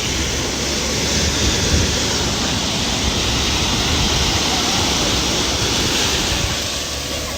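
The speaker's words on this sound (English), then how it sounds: "listening to the sound of waves" Continuous wash of sea waves on the coast at Goa, a dense broadband roar of surf that stays steady and fairly loud, with no talking.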